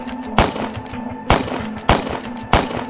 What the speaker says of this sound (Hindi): उन दोनों के बीच में 1-2 राउंड फायरिंग होती है